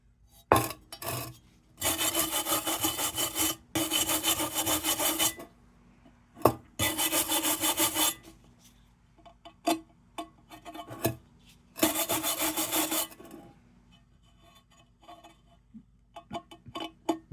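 A bench grinder works a vintage metal part in repeated harsh rasping bursts, each lasting one to two seconds. A low motor hum carries on between passes, followed by a few lighter taps and scrapes.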